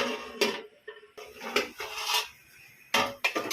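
A metal lid clatters onto a pot of boiling dried-fish curry, with several sharp clanks and scrapes separated by short pauses.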